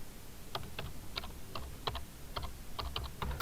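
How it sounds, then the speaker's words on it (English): Fingers tap out a short word on a computer keyboard, a quick irregular run of soft close keystrokes over faint room noise. "I'm just going to type in description."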